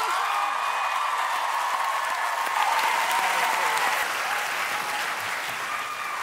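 A studio audience at The X Factor applauding a band, a dense sustained roar of clapping that stays loud throughout with scattered cheers.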